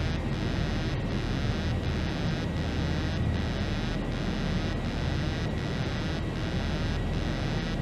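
Airliner engines in a flight simulator held at go-around thrust, a loud steady roar with a rhythmic pulsing beat throughout, no voices.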